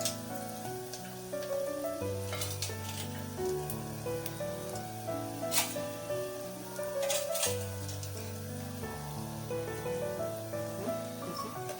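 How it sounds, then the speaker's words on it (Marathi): Onions and mutton mince fry in a pan for a Parsi-style green masala mince. A steady, moderate crackling sizzle runs throughout, with no talk. "मग त्याच्यात आपण खिमा टाकून देऊ।"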